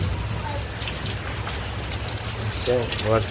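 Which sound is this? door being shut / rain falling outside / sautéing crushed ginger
rain falling outside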